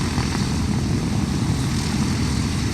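The propeller engines of Sally B, a 1945 vintage aircraft, give a steady, moderately loud droning roar that holds throughout with no voices.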